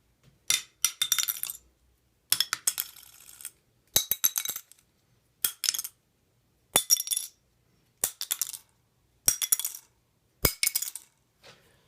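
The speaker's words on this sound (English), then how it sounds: "I'll just throw them and hopefully you'll be able to see them in the camera and tell which one's hitting when you hear the clank." Guitar picks tossed one at a time into a sink, giving eight separate bright clinks and rattles, each bouncing and settling, with short silences between them.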